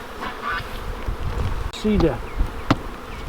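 Honey bees in an open hive being smoked during a hive split, giving off a steady, dense buzz that runs throughout while people talk over it.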